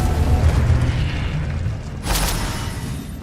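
A Confringo fire spell detonates in Hogwarts Legacy gameplay, a loud booming blast bursting out midway over a dense, rumbling battle din, with no talk.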